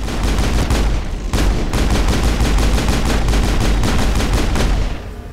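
Rapid automatic gunfire from the video game Mass Effect, aimed at a Krogan, hammers out in a loud, continuous burst with one brief break, then fades at the end.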